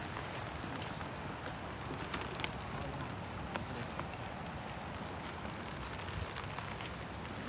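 Steady rain patters softly on a surface, a faint even hiss with occasional louder drops and no voices.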